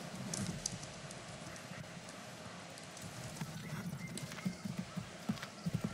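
Horse hooves clip-clop in a steady rhythm in the video game Assassin's Creed 3, under a busy game soundscape, fairly faint and continuous.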